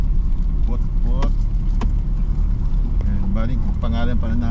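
A car nicknamed Putput driving over a rough camp road, its engine rumbling steadily throughout with bumps and rattles, while people talk over it.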